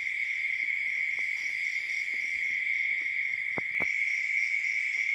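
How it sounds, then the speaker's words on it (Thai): Crickets and other insects trill continuously at night after rain, a dense, steady high-pitched chorus with a couple of brief low thumps near the end, and no talking. "เสียงแมงร้องนะคะเสียงกบเสียงเขียดร้องนะคะเพราะฝนตกนะคะ"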